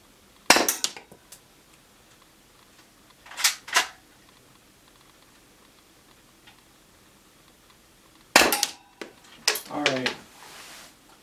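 A UK Arms P2400 airsoft pistol fires its last rounds: four sharp, close snapping shots, with a single shot followed by a quick pair after a pause and another lone shot later, then a brief voice at the end.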